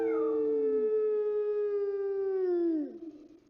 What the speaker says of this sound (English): wolves howling.